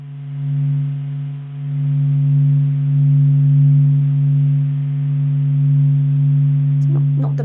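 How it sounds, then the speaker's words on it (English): Audified solar sound-wave data sped up to audible pitch: a steady, continuous low drone with a strong fundamental and faint overtones, holding evenly throughout, with a few brief higher chirps near the end. "that you know that this is the sound of the sun."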